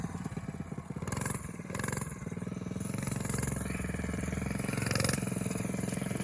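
Coleman 100cc minibike engine revving and pulling hard, a steady buzzing drone rising in pitch as the throttle opens, loud and close with small surges along the way.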